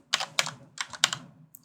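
Close, crisp keystrokes on a computer keyboard while renaming text in motion graphics software, arriving in four or five uneven bursts of rapid clacks with short pauses between them, and no voices.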